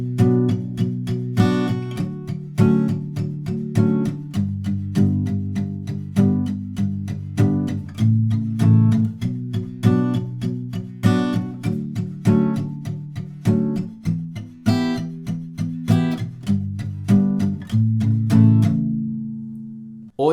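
Acoustic guitar strumming a song's chorus without a capo, palm-muted strokes in a steady rhythmic pattern of chords, close and clear, played alone with no voice.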